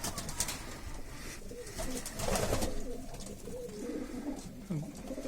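Soft pigeon coos repeat low and close amid a busy flock, with faint rustling and chatter in the background.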